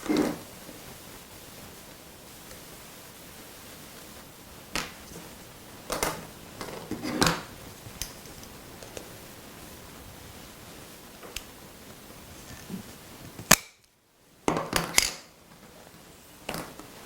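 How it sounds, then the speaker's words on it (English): A wooden dowel for stacking a three-tiered cake is being cut: scattered sharp clicks and snaps of the cutting tool, several distinct cuts spread across a quiet room with light handling noise in between. "we need to cut 3 more pieces of dowel"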